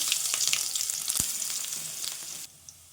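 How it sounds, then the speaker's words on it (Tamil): Mustard seeds, cumin and crushed garlic fry in hot oil, giving a dense close bright sizzle and crackle with a single sharp pop, then the hiss drops off abruptly near the end. "எண்ணெய் சூடாகிட்டு இப்போ வந்து கடுகு வந்து சேர்த்துக்கிறேன் அது கூட வந்து சீரகமும் சேர்த்துக்கலாம் இப்போ தட்டி வச்சுக்கிற பூண்டு வந்து சேர்த்துக்கலாம்"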